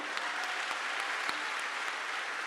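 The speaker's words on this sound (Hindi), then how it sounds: "जोरदार ताली ठोको इनके लिए" An audience at a spiritual gathering in Prayagraj gives loud, sustained applause, a dense crowd of clapping hands that continues evenly throughout without talking.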